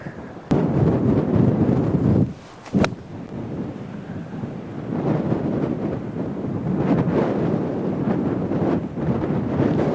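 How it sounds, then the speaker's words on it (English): Strong wind buffets the microphone on a stormy golf course, a loud, rumbling roar in heavy gusts with a brief lull partway through before it builds steadily again. "not in this wind"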